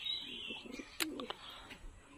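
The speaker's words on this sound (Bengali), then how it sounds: "তো আমরা সাদে আসছি কবুতরকে খেতে দিতে" Pigeons on a home rooftop being fed paddy grain, with soft cooing and chirps near the listener across a short stretch, plus a brief sharp rustle partway through.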